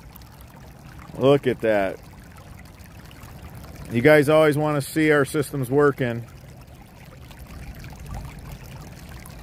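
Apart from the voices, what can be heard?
flood water pouring through drain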